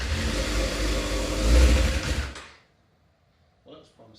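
A crash-damaged Suzuki RF900R motorcycle engine starts, roaring loudly and revving hard for a couple of seconds, then cuts out abruptly, leaving near silence with a few faint knocks.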